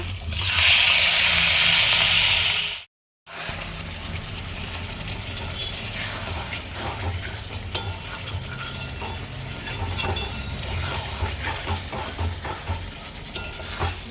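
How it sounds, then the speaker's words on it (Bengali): Marinated mutton goes into hot oil with whole garam masala, bay leaf and garlic: a loud bright sizzle at first, then a brief cut and a lower, steady frying crackle with scraping and stirring. "এইবার দিয়ে দেবো এই ম্যারিনেট করা মাটনটা"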